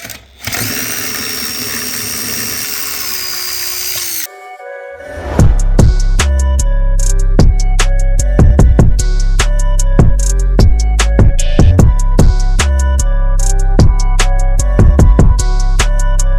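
A Yamaha Raptor 660 quad fitted with a Big Gun Evo R exhaust cranks and fires into a loud, deep, lumpy idle with sharp throttle blips. A high mechanical whine runs alone for the first few seconds.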